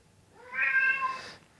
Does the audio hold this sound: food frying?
no